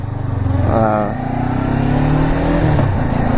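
Sports motorcycle engine revving close by, a loud throbbing roar with a rising-then-falling rev early on, followed by steady engine drone and some wind noise.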